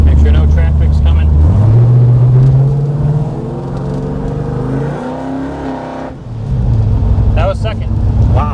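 A 1978 Chevrolet Malibu engine pulls hard under acceleration, the pitch climbing, dropping briefly at a gear change, then rising again, loud and close from inside the car, with voices talking briefly near the end.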